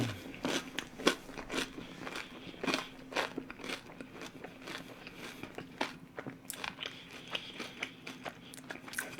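Repeated crisp crunching bites into the tail of a fish-shaped bungeoppang pastry, sharp crackling snaps at irregular intervals, close to the mic with no talking.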